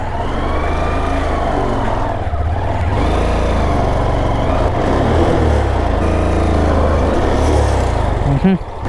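A motorcycle engine runs loud and close on a hill trail, its low drone steady with slight surges in throttle, while a person talks over it.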